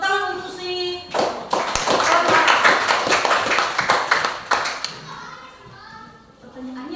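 A burst of applause from a group, lasting several seconds, begins after a brief spoken phrase and fades back into talking.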